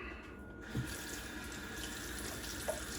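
Water runs steadily from a kitchen tap into a bowl, a constant soft rushing stream with a faint clunk near the start, no voices.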